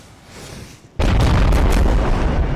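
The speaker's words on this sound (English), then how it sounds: "These are light howitzers this time." Light howitzers fire in a Napoleon: Total War mod, a sudden loud boom after a quiet second, then heavy rolling blasts and rumble filling the rest, with no talking.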